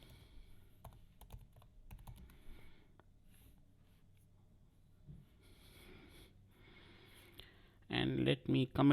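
Keys clack on a computer keyboard while a message is typed: scattered light taps early on, then a dense, louder burst of close typing near the end, with a voice talking quietly in between.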